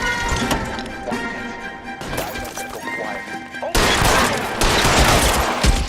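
Rapid bursts of gunfire crackle and pop through a car chase shootout in L.A. Noire, dense and loud throughout, swelling harder in the last two seconds with engine and crash noise underneath.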